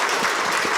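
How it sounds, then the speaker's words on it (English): Audience applause closes Dr. Taylor's Frankfort Heritage Lecture on the Beauchamp Tragedy. It is a brief, dense, steady wash of many hands clapping at once, with no voices over it. "Please give him a round of applause"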